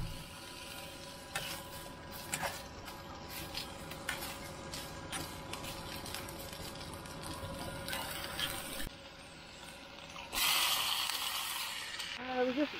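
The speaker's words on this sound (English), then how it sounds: "You can hear that frying already." Chicken pieces sizzle and fry in a hot pan in a pub kitchen in Matlock, Derbyshire, a steady close crackle with clinks of a utensil stirring and a louder burst of sizzling near the end.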